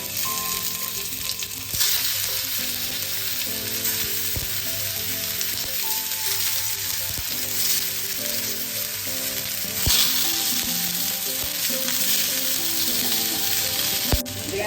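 Tomatoes roast in oil in a chutney pan, giving a steady close sizzle with occasional clinks and scrapes of stirring throughout, and no talk.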